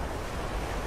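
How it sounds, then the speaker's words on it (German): Water drains in the video game Black Mesa, a dense, steady rushing wash that fills the moment evenly without any break or talk. "das Wasser läuft ab"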